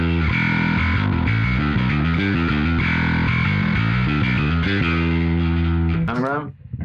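Heavily distorted metal bass riff played through a Neural DSP Quad Cortex with a Parallax-style preset, loud and continuous with chugging rhythmic notes, ending in a brief slide.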